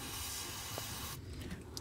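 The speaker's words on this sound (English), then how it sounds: "I'm going to put some silicone spray" A steady, close hiss of silicone spray onto a fuel pump pipe runs for about a second, then cuts off, leaving quieter background noise with a few faint clicks.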